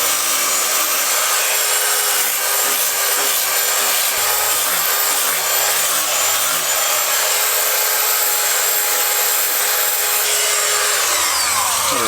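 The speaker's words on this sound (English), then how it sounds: "power file next." Power file grinding and smoothing a steel part during audio and security upgrades on a 1982 Ford Capri, a continuous harsh, loud abrasive whine that runs unbroken before winding down at the end.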